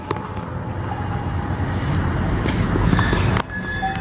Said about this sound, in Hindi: यहाँ पे ट्रैफिक की आवाज़ आती रहती है सारी रात